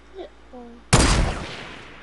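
A single loud sniper rifle shot in a snipers-only video game match cracks sharply up close, then its echo rings out and fades, following a couple of faint game sounds.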